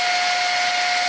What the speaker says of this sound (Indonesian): Kita coba untuk menyalakan motornya terlebih dahulu ya.